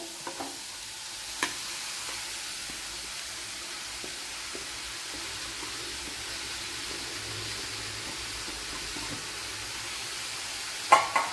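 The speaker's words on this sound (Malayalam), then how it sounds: "ഇനി ഇതിലേക്ക് അരിഞ്ഞു വെച്ചിരിക്കുന്ന ബീട്രൂട്ട് ഇട്ട് കൊടുക്കാം" Chopped beetroot for a Kerala-style beetroot thoran frying in a pan, a soft, steady sizzle held at low volume throughout, with a few brief clinks of stirring near the start and end.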